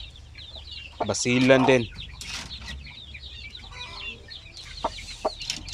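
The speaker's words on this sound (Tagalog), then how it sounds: "Yan, mga sisiw, oh." Native hens and chicks cluck near the ground in a backyard flock, with one loud drawn-out call early on and scattered soft clucks and peeps afterward, while someone speaks briefly.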